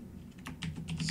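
Quick, light keystrokes on a computer keyboard, a short close burst of several taps at a steady pace with no talking.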